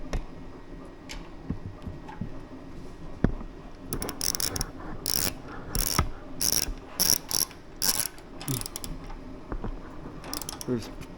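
Ratchet tightening bolts on a motorcycle tank clamp on an Indian Sport Chief, with quick bursts of clicking pawl strokes in short repeated runs, close up, after a quieter start with light handling noises.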